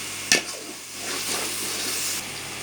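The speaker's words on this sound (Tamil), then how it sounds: "அடி பிடிக்காமல் கிண்டி விடணும்." Tomato masala bubbling softly in a pan over low heat, with a sharp scrape of the spoon at the start and then a steady low sizzle as it is stirred, fairly close.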